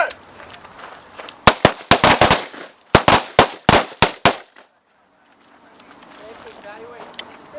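Rapid carbine gunshots during a combat carbine shooting drill, two tight bursts of sharp, loud reports about four to five shots each, followed by quieter ambient noise.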